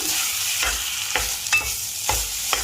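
Pork is stir-fried in a pan for a Thai nam ngiao dish, with a continuous close sizzle broken by several scraping strokes of the spatula, and no voices.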